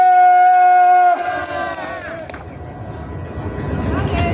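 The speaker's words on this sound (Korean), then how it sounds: "큰 박수 함성 발사!" At a street rally in Seomyeon, Busan, a steady tonal blast cuts off and a large crowd breaks into loud cheering and applause, a dense roar of voices and clapping that continues to the end.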